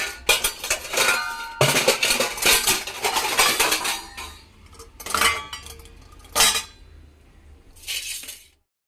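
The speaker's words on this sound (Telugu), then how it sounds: "ఇంక ఈ లోపైతే సామానం కూడా సర్దేసుకుంటాను" Cooking pots, plates and utensils clatter and clink as they are stacked and put away in a home kitchen, with bursts of metallic rattling separated by short pauses and no talking.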